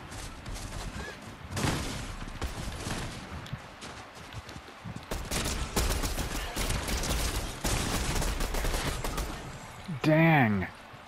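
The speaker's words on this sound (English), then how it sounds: "Oh, he just shot at me though" Gunfire in Fortnite, bursts of rapid shots and cracks spread through the clip, fairly close and loud, with a short warbling game sound near the end.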